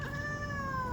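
A cat meows in one steady, drawn-out call that lasts about a second, heard close and clear above a low background hum.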